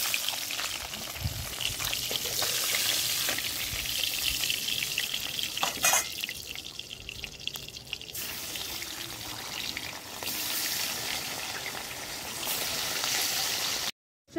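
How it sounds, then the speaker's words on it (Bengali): Bata fish frying in hot oil for a Bengali fish curry, a steady close sizzle and crackle with watery hiss running throughout, briefly dipping in the middle before resuming. "এইভাবে মাছটা আমি একে একে সবকটা মাছ ভেজে নেব।"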